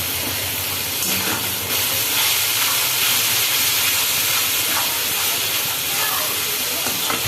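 Tomato paste hitting hot oil while cooking a soybean bhuna curry gives a loud, steady sizzling hiss that runs without a break from start to end.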